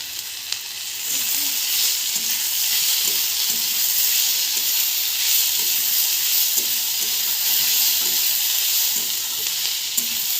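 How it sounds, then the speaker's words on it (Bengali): Chopped potatoes sizzling in hot oil in a pan while cooking egg chow mein, a steady loud frying hiss with faint scrapes of stirring throughout. "এবার এর মধ্যে দিয়ে দেবো আলু কুচানো।"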